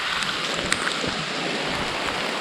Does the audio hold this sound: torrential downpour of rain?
yes